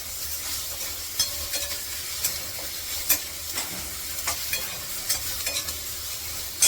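Onion, tomato and masala sauté in a pan with a steady sizzling hiss, punctuated by soft scraping and tapping of a spoon stirring at irregular intervals, close and without talk.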